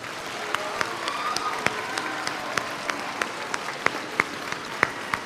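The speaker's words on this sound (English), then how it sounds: "Students, let's please give your family a round of applause" Middle school students at a bridge-to-high-school ceremony applaud their families, a dense, sustained crowd clapping filling the room, with sharper individual claps standing out above the wash.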